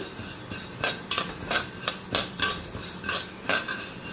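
Horse gram is stirred in a heavy pan, a spoon scraping and clinking against the metal in a regular rhythm of about eight close strokes over a faint dry sizzle.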